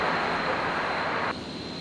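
Embraer jet at Brisbane Airport at night, a steady broad engine roar close by that drops abruptly in level near the end, with no talk.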